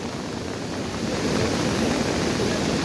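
A river swollen by heavy monsoon rain in Anjap, Karjat, rushes past near a bridge, carrying floating logs. The water makes a loud, dense roar that continues without a break.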